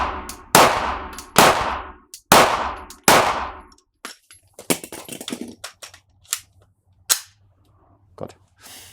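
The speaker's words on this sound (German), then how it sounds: "5 Schuss feuerfrei" Five sharp gunshots ring out in fast succession, each with a short decaying echo, followed by scattered clicks and faint rustling.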